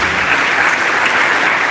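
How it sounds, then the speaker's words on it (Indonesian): Audience applause at a gathering with Gus Dur and Gus Mus in Indonesia, loud dense clapping filling the whole short stretch without pause, close and even. "Tepuk tangan untuk teman-teman semua."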